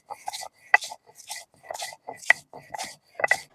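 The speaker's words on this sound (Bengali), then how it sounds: "শুকুই ভাজা হয়ে গেছে, এবার পাটায় বেটে নিয়েছে" Fried dried fish is ground by hand on a stone grinding slab, heard as about eight short, separate rubbing and scraping strokes in an uneven rhythm, close and quiet, with no voices.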